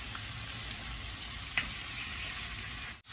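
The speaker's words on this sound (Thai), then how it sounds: "ก็จะเอาหอมลงผัดเข้าไปนะคะ" Shallots sizzle and crackle in a hot pan for shrimp stir-fried with curry powder, a steady bright frying hiss with one brief clink partway through.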